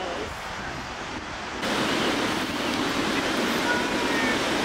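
Pacific Ocean waves wash onto the shore as a steady, close broadband roar with wind buffeting the microphone, growing louder partway through and continuing without a break.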